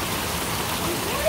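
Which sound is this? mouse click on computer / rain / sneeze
rain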